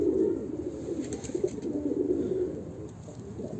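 Pigeons coo in a breeding coop, low, throaty rolling calls from several birds overlapping continuously, close and moderately loud with no talk.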